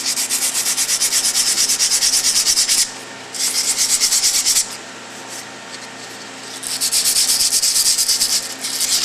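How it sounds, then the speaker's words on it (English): Dirty clutch linings are scrubbed with emery cloth in fast, rasping back-and-forth strokes, loud and close, running in three long bursts separated by brief pauses. "you can attempt to clean them with a little bit of emery cloth"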